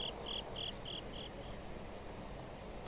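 Crickets chirp in the Harvest Moon: Friends of Mineral Town farming game, a faint series of about six quick, evenly spaced high trills that fade out over a soft background hiss.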